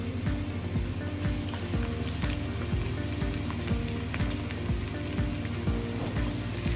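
Tomatoes added to chicken chow mein frying in a pan, a loud, steady close-up sizzle with a regular rhythmic scraping of the spatula, no talking.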